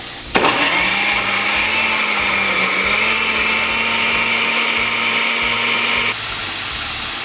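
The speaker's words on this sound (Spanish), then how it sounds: "Le ponemos sal y vamos a licuar." A kitchen blender whirs steadily as it purées a salted sauce for Mexican-style beef asado, switching on with a sharp start and running at an even, loud pitch for about six seconds before winding down, with no talk.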